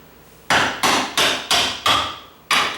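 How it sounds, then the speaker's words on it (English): A screwdriver used as a punch knocks a door hinge pin upward from the bottom hinge of a sagging door: six sharp metallic taps, close and loud, evenly spaced then a short pause before the last, with no talking. "now I can just tap that out with a little screwdriver"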